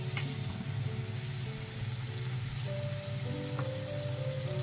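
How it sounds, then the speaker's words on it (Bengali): Papaya and potato pieces coated in gram flour batter fry in hot oil in a kadai, giving a close, continuous bubbling sizzle with a faint steady hum underneath and no speech. "এই যে বেসনে মাখিয়ে এবার তেলে ছেড়ে দেবো।"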